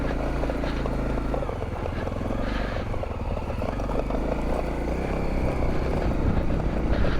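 A small Honda motorcycle engine drones steadily while riding over rocky terrain near Tafraoute, Morocco, a continuous close buzzing hum with slight surges and rattles throughout.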